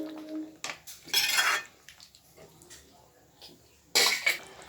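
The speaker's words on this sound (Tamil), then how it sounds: "இப்போ நம்ம தண்ணி ஊற்றிட்டோம்." Water is poured into chicken karahi cooking in a pan, giving two short, close splashing bursts among clinks and clatters of metal utensils against the pan.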